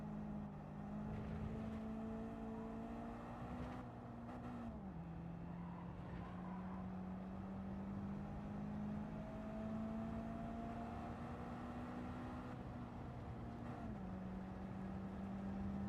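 A race car's engine in a video game road race holds a steady, smooth drone, briefly dipping in pitch at shifts before climbing again, fairly quiet and with no talking over it.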